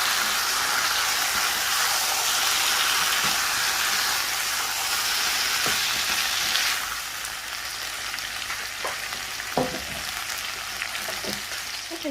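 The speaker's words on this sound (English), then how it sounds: "so now that the sweet peppers are now added in, we're just going to stir that in" Sweet peppers sizzle loudly in a pan as they are stirred into chicken jalfrezi, a steady hiss of frying that drops a little partway through, with occasional scrapes and clinks of a spoon.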